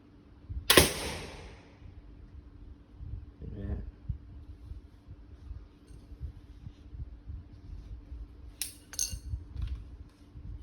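A Mamba crossbow fitted with a red dot sight fires an arrow into a target piece, giving one sharp, loud snap near the start, followed by quieter clinks and a pair of brief crisp knocks later over low background noise.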